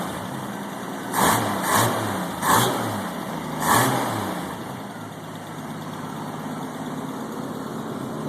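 A Mustang inline-six with a newly installed two-barrel carburetor and DSII ignition blips through four quick, sharp revs before settling to a steady idle nearby.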